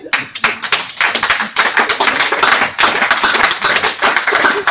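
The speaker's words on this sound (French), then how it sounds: "Le public applaudit." An audience at a public debate between presidential candidates bursts into sustained, loud, dense applause, many hands clapping continuously with only a brief dip midway.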